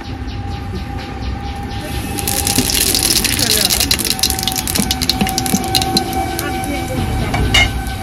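Radhuni seeds hit hot oil for a Bengali tempering while cooking potol chochori with chanda fish, setting off a loud, steady sizzle that swells and crackles throughout.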